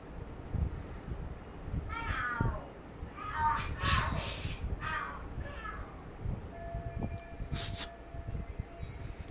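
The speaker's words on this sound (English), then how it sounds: "The hell are there cats fighting? What are they screaming for?" Cats fighting and screaming in the video game Lost Judgment: a series of yowling, wailing cries that rise and fall over several seconds, moderately loud above a busy game-world background with scattered thumps.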